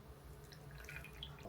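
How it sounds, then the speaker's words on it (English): Water is poured over almonds set to soak, a soft close trickle with light drips over a low background hum. "I'm gonna add the water"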